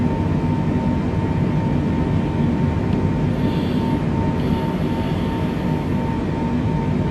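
A Boeing 747 in flight in Microsoft Flight Simulator gives a steady, loud, broadband engine roar with a faint tonal hum, constant throughout with no talk.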